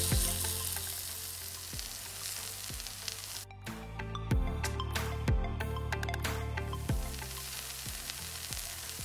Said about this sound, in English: always cook all the paniyarams in the low to medium flames, then it will be crispy and more tasty